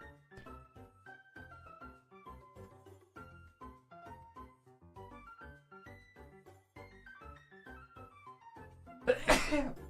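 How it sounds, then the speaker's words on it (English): A single sharp sneeze bursts out near the end at close range, following a stretch of quiet tinkling game music in the background. "Am I sneezing?"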